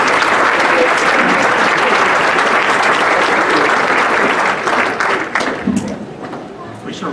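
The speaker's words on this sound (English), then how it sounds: "Those people deserve a nice hand of applause." A crowd at a church rally dinner gives loud, full applause that holds steady for several seconds, then thins out into scattered claps and faint murmuring.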